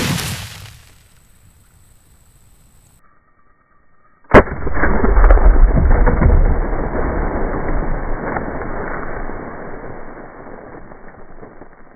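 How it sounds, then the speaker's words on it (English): A 12 gauge shotgun slug fired at a cinder block lets out one sharp, loud blast. A long, rumbling wash of noise follows and fades slowly over several seconds. "We're going with the 12 gauge shotgun slug."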